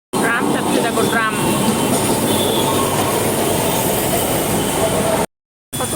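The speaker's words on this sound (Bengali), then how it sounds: "ট্রাম যাচ্ছে, দেখো ট্রাম" A tram rumbles loudly past on a busy evening city street, its wheels squealing and clattering on the rails amid traffic and indistinct voices, then cutting out briefly near the end.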